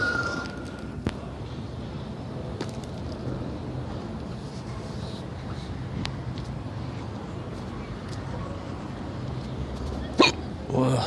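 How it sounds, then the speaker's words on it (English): Sharp hiccups from a person outdoors in West Philadelphia, a few isolated ones spread over steady wind and traffic rumble, the loudest near the end. "I've got the hiccups."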